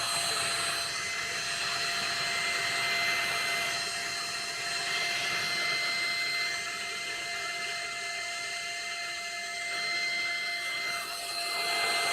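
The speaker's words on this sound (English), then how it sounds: "Get the old hairdryer out." A hair dryer drying resin on a lidded box blows continuously with a steady whirring hiss and a faint high whine, holding an even, fairly close level throughout.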